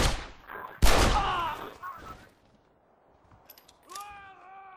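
Several sharp gunshots from a double-action revolver in Red Dead Redemption, loud and close in the first two seconds with a ringing tail, followed by quieter game sounds and a rising animal-like call near the end.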